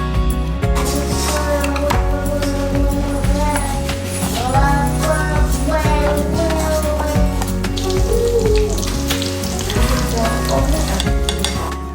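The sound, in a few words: ahi tuna katsu frying in oil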